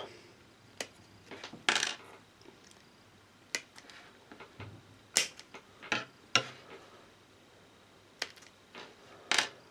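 Plastic model kit pieces for a Crash B-Daman Magnum Ifrit are snipped off the runner, giving a string of sharp, close clicks at irregular intervals in a quiet room.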